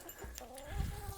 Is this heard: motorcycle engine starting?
no